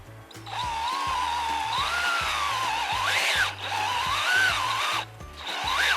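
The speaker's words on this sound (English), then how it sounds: "So we're going to drill at an angle." A power drill bores at an angle into a maple tree for sap, its motor whining steadily in the foreground with rising and dipping pitch and a couple of short pauses.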